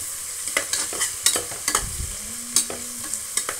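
Ingredients for palav frying and being stirred in a pan, with scraping spoon strokes and a steady sizzle in a repeating rhythm, close and fairly loud with no voices.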